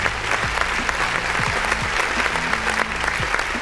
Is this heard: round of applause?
yes